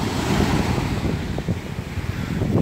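Black Sea waves wash onto the shore at Vityazevo under strong wind buffeting the microphone, a continuous loud roar with rolling surges and no talk.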